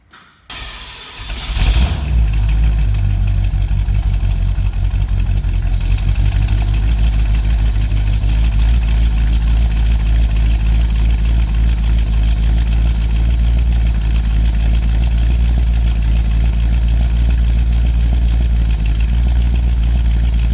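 A 1970 Chevy C10 Suburban with Sniper EFI, unstarted for several weeks, cranks and fires on a cold start, then settles into a loud, steady, low idle that runs on unbroken.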